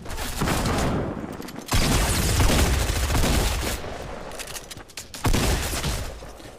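Video game gunfire rattles in bursts of rapid shots and booms, with brief pauses between volleys, moderately loud and without speech.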